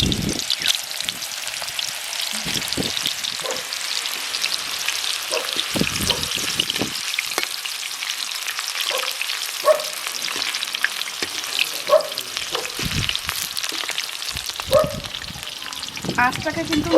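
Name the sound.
raw banana slices frying in hot white oil in a pan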